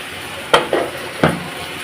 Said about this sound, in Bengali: আর এখানে ঢেঁড়স ভাজি আমি মাহিনের জন্য একটু বেগুন ভাজি করে ফেললাম